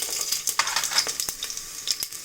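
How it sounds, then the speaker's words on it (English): Okra (bendi) sautéing on high heat in a pan for a sweet Mukkala pulusu, a steady close sizzle broken by light scrapes and stirring taps, with no voices. "Now my bendi is little sauteed."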